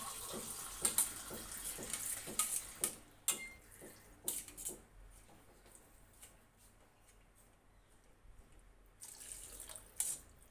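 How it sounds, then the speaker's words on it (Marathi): Water is poured into a pot of Khandeshi masala khichdi, a soft splashing pour with a series of quick clinks and taps that fades to a quiet trickle before a brief louder splash at the end. "आता आपण याच्यामध्ये पाणी घालायचं आहे।"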